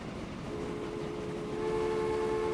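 A Baldwin steam locomotive runs in the Transport Fever video game with a steady, loud rumble and a hum that grows a little toward the end, and no talk.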